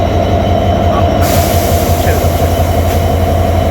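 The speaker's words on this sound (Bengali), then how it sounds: "এদিকে সুন্দরবন এক্সপ্রেস দর্শনা হল্ট আসতেছে" The Sundarban Express rolls into Darshana halt in Bangladesh with a loud, steady rumble and a low hum heard up close, and the noise holds constant throughout.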